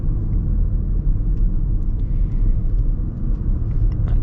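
A Lexus NX 350h hybrid SUV pulls away from a stop, giving a steady low rumble of road and drivetrain noise from inside the cabin, with faint light ticks above it and no talking.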